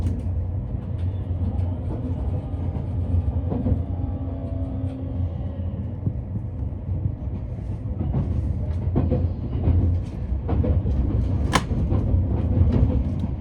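Inside a Kintetsu Raku Raku Yamato commuter limited express running through Nishikujo station, a continuous low rumble of wheels and motors with rattling and brief clicks of the track, steady and close throughout.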